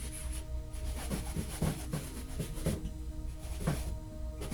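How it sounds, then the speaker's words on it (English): A cloth rubs excess oil paint off a canvas in a series of short, soft, rasping strokes, quiet and close, while faint musical tones play underneath. "Just wiping off the excess paint."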